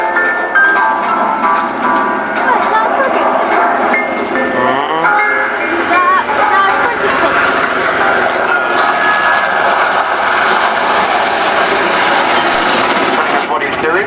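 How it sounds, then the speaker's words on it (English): A large three-engine helicopter with a huge 60-foot rotor passes at the RNAS Yeovilton air show, a steady loud engine and rotor roar that holds throughout, with a commentator talking over it. "Huge big rotor, 60 foot 5 inches, nearly the size of a cricket pitch, and driven by 3 engines."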